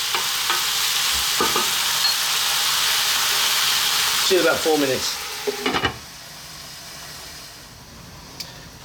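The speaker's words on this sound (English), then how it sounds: "the spinach will break down with the steam, reduce down in size fairly dramatically" Spinach curry with tomato cooks in a pan, giving a loud, steady frying hiss with brief scraping stirs and clatter partway through, and the sizzle drops quieter toward the end; someone speaks briefly over it.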